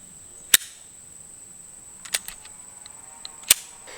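Three sharp metallic clacks as a pistol slide is racked during a clear check, close and crisp, spaced out over a few seconds with faint smaller clicks between them.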